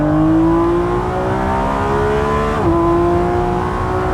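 A Lamborghini Revuelto engine revs steadily higher in pitch, droning loud and close, with a brief dip like a gear shift before climbing again.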